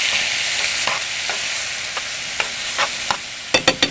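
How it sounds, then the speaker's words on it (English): Steady sizzling of celery frying in a hot pan, with a few light scrapes of a spoon stirring toward the end. "I'm going to add my celery. Oh yeah, that's a good sound."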